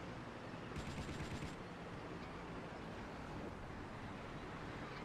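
Rapid machine gun fire in the Vietnam War shooter Battlefield Vietnam, a short burst of about a second set in a steady wash of game ambience and wind-like noise.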